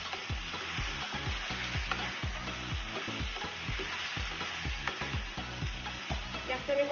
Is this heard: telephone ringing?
no